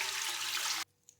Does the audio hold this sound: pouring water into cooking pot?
yes